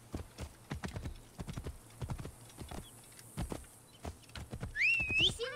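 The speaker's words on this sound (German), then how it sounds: "Pferd." Horse hooves clip-clop steadily in the video game Assassin's Creed Origins, a quiet, even walking rhythm of soft thuds, followed near the end by a high, wavering neigh.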